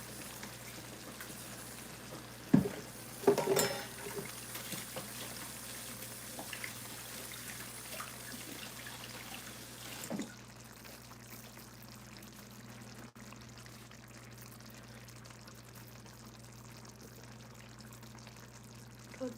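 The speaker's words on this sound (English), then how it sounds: "let me wash my hands real quick" Tap water runs steadily at a kitchen sink during handwashing, with a few louder splashes and clatters in the first seconds, then a quieter continuous stream over a low hum until the end.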